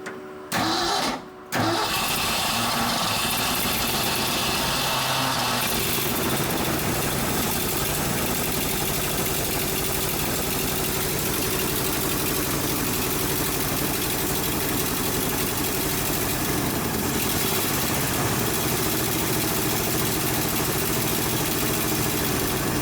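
An old dump truck engine with its original ignition coil cranks briefly, catches, then roars into a loud, rough, continuous idle that stays close and steady throughout.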